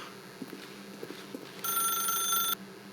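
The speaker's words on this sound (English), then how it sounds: "If you can truly place your faith in another, then pick up the phone." A telephone rings in The Stanley Parable video game: a single clear electronic ring burst lasting about a second, following a few soft thuds like footsteps. No one speaks.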